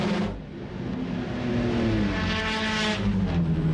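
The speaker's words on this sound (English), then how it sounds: "Terrific variation of cars here, AJ." Mazda RX-7 race cars roar past at Surfers Paradise in 1995, their rotary engines howling loudly and steadily with a rising, sweeping drone as the cars pass close by, with no voices.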